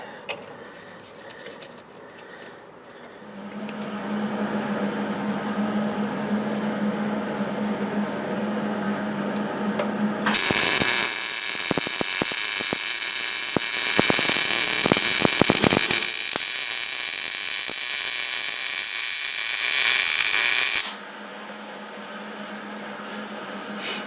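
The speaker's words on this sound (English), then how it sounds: "I'm going to weld this on each side" MIG welding a rust repair patch onto a Dodge Dakota frame: a low hum gives way to a loud, steady crackling buzz of the arc that holds for about ten seconds, then cuts out back to the quieter hum.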